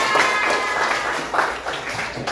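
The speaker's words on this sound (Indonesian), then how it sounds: "kasih tepuk tangan buat kita semua" A group applauds together, a dense, steady patter of clapping that holds at an even level for a couple of seconds, with faint voices mixed in.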